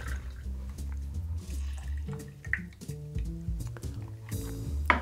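Lemon squeezed by hand for a raspberry lemon drop martini, close wet squishing with drips and liquid trickling into a vessel, no talking.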